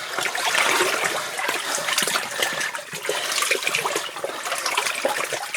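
Water splashing and churning as someone wades through a flooded mine passage, a loud, close, continuous rush with irregular sloshing surges and no talk.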